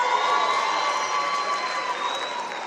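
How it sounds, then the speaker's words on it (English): Applause and cheering from an audience at a university World Intellectual Property Day celebration, a dense continuous crowd clapping with whoops that holds steady and close for under three seconds. "Round of applause!"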